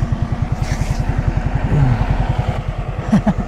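A motorcycle passes close by on a road, its engine thudding in a steady, rapid pulse that stays loud and near for several seconds. A short clattering rattle rises near the end.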